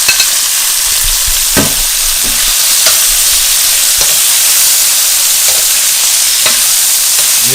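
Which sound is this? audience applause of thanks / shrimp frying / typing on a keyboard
shrimp frying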